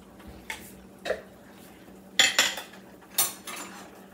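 Spoon clinking against a pan while garlic is stirred into melted cream cheese and heavy cream, several sharp scattered metallic taps and scrapes, close and fairly quiet, with no talking.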